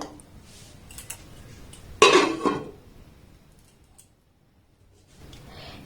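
A lid set down on a pan of semolina cake cooking on the stove, with one sharp metallic clatter and a short rattle, close and loud, between faint quiet handling noises.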